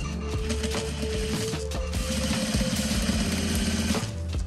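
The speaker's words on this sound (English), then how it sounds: "then we're just gonna sew it to secure it down" A sewing machine stitches straps onto a fabric bag, running in a fast continuous mechanical chatter with rhythmic needle clatter throughout, close and fairly loud, no voices.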